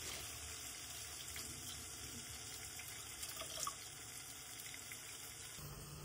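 Water is poured into a cooking pot of onions that were browned for 10 to 15 minutes, a steady, faint gushing wash that runs without a break for several seconds with no talk over it.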